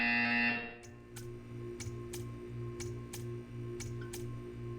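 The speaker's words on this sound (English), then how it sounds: "You will hear a buzzer." A buzzer in the video game Portal 2 sounds in a steady series of short, evenly spaced beeps over a low electronic hum.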